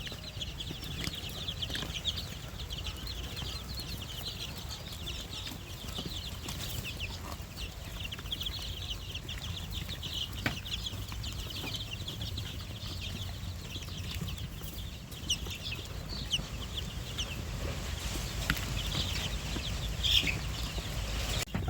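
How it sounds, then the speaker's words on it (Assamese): Sonali chicken chicks, sixteen days old, peep and cluck faintly and continuously while being fed grain, set against low indoor background noise. "আবেলি আপোনাৰ দানা দি দিছোঁ মুৰ্গী পোৱালিখিনিক খাবলৈ"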